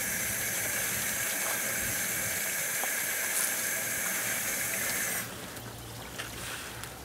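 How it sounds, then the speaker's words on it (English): Water pours steadily into a fermentation container of fish or plant juice mix with sugar, a continuous close hiss and trickle that eases off near the end. "I tend to put a little bit of water in here to kickstart this process."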